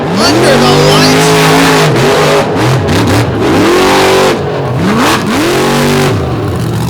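Engine revving hard under the lights at the 2023 Lake Erie All Star Marathon race, the racing car roaring loudly throughout with repeated rising throttle sweeps and brief lifts, under a race announcer's voice.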